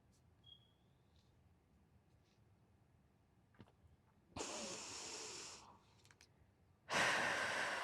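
Breaths taken during a stretching and mobility routine, two loud, close, airy exhales a couple of seconds apart, with quiet pauses around them and no voices.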